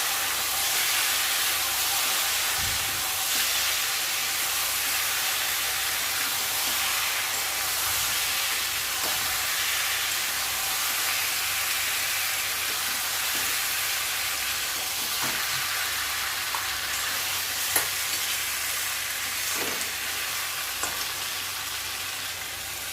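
Meat cooking in oil in a covered pan for a Bengali home-style dish, giving a steady, close sizzling hiss with faint stirring knocks, and no voices.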